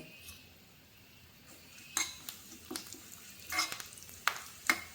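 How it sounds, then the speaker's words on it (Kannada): Cumin seeds and red chilli splutter in hot oil, giving faint, scattered pops and crackles. Intermittent clinks of a utensil against the pan sound over a quiet background. "ಈಗ ಜೀರಿಗೆ ಚಟಪಟ ಅಂತ ಇದೆ. ಇದಕ್ಕೆ ಕೆಂಪು ಮೆಣಸನ್ನು ಹಾಕ್ತಾ ಇದ್ದೀನಿ."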